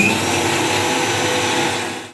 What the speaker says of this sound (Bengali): একটা কাঁচা লঙ্কা আর একটুখানি পোস্ত আছে, এটাকে আমি মিক্সিতে ভালো করে বেটে নেব